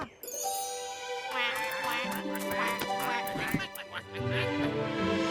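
Cartoon ducks quack several times from the animated series Super Wings against a tonal musical background, close and fairly loud, with a brief tinkling sound mixed in.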